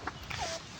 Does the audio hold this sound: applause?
no